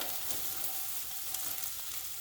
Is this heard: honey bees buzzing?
no